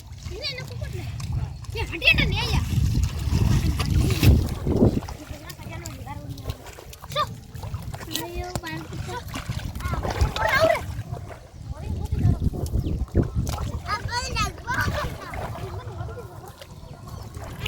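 A cow being bathed splashes and thrashes in water while pulling on its rope, with irregular splashes and churning under excited overlapping shouts from people nearby.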